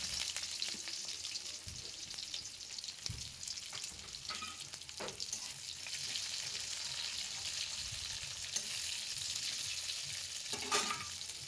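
Chopped onions frying in hot oil in a wok with dried red chillies and five-spice seeds, a steady moderate sizzle with occasional spatula scrapes and crackles throughout, no talking.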